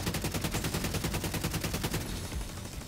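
A light machine gun fires a fast rhythmic burst in the shooter game The Division 2. The rounds are loud and evenly spaced for about two seconds, then give way to a dense rumbling wash.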